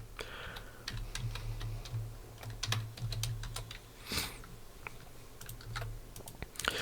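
Code typed on a computer keyboard, quick irregular key clicks in bursts with short pauses, close and fairly quiet, with no talking.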